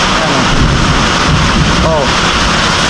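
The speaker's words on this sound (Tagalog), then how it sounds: "napakalakas ng ulan mga ka-journey" Heavy rain pours down outdoors in a dense, loud, continuous hiss, with gusty wind noise buffeting the microphone and a brief voice heard in the middle.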